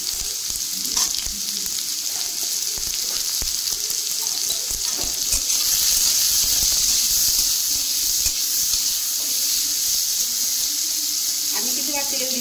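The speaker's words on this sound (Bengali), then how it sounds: "বরফি ভাজার তেলের মধ্যে আমি আলুটা ভেজে নিলাম" Potatoes fry in oil already used for frying barfi, a steady close sizzle and hiss running throughout, with occasional stirring and faint background noises.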